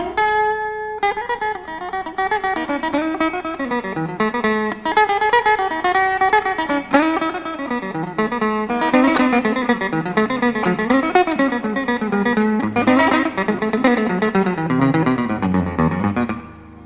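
Guitar picks out an old fiddle tune, a fast, continuous run of bright melodic notes with bouncing bass movement, played solo and upfront for the full stretch without any talking.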